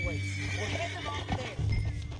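A horse neighs and its hooves clip-clop along a canyon trail in Red Dead Redemption 2, a brief close whinny over steady hoofbeats with game music and ambience beneath, while a voice talks throughout.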